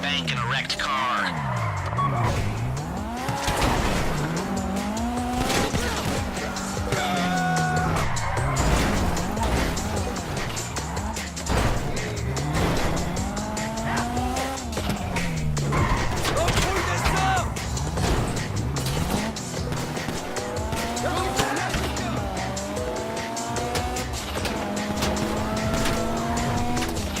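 A car driven in Grand Theft Auto V as a heist car, its engine revving and shifting up and down with repeated tire squeals and skids, loud and continuous, while people talk over it.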